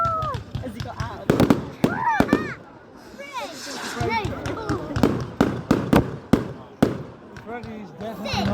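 Bonfire night fireworks, a string of sharp cracks and bangs popping at irregular moments, with excited voices and children talking and squealing over them outdoors.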